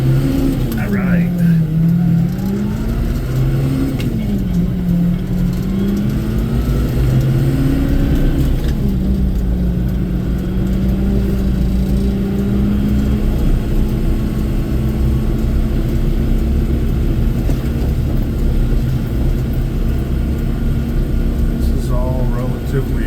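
Loud, steady engine drone from a tractor driving through residential subdivision streets, with a low rumble and shifting engine tones that rise and fall with speed, running continuously for over twenty seconds.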